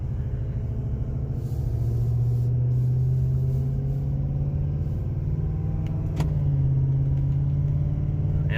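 Heavily loaded 2019 Ford F-350 pickup pulling away in soft, rain-dampened dirt, its engine a deep steady rumble that builds slightly as it strains forward, with a brief clunk partway through.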